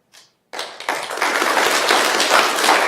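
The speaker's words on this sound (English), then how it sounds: "please refrain from any clapping, applause, noise, or anything like that" Applause from the gallery at a city council meeting breaks out after a brief tap and swells into steady, dense clapping from many hands.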